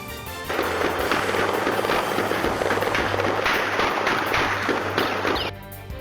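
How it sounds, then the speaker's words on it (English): Dense, rapid gunfire from a drive-by shooting in a neighborhood crackles nonstop for several seconds, loud and sharp, then cuts off abruptly. "round after round, gunfire jolting people from their sleep"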